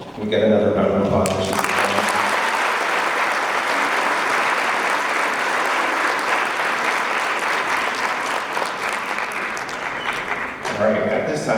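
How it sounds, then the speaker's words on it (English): Graduation ceremony audience for a 2022 high school class breaks into loud, sustained applause, steady crowd clapping that fills about ten seconds between brief spoken moments at the start and end. "We get another round of applause."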